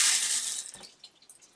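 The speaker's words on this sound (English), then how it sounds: "I am going to flush it and get whatever water's in the line out." An RV toilet flushed with the water pump switched off gives a short rush of water draining from the line that quickly fades, followed by a few faint drips and gurgles.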